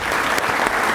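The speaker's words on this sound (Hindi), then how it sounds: "इस जश्न उर्दू के नाम एक बार फिर से तालियां प्लीज़" Audience applauding at a Jashn-e-Urdu celebration event, a dense, steady wash of clapping that fills the whole moment without pause.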